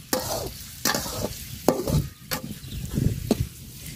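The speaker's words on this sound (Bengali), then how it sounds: "পেঁয়াজটা লাল লাল করে ভাজা নিছি" Chopped onions frying in oil with whole spices, browning in a pot as a spoon stirs them in repeated scraping strokes about every second over a continuous close sizzle.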